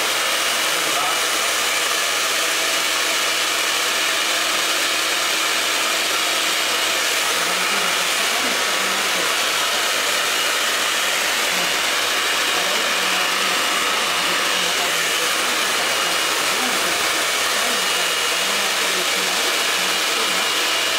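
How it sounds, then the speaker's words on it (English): A handheld blow dryer runs steadily throughout while hair is styled in a barbershop class, a continuous broadband whoosh that holds at fairly even loudness for about twenty seconds with faint background voices underneath. "I use a blow dryer."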